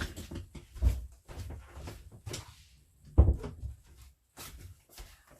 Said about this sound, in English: I just had to shut the door